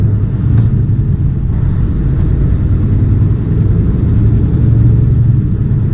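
A truck engine rumbles steadily and loudly from inside the cab while driving, a continuous low drone with no speech over it.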